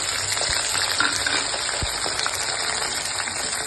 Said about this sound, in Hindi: पहले भिंडी को फ्राई करूंगी ताकि चिपचिपी ना लगे।